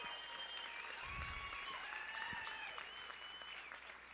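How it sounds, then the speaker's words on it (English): A comedy show audience breaks into applause, a steady wash of clapping from a crowd that holds for several seconds without talking over it. "Give yourselves a round of applause."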